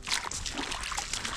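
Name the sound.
water trickling at a stream crossing on a jungle trek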